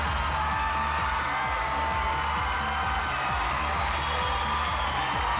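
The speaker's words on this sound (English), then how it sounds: "how about a big round of applause for the acts that did make it up here tonight" A television talent show audience applauds and cheers the evening's acts, a dense, steady wash of clapping and crowd noise filling the whole stretch at close, loud level.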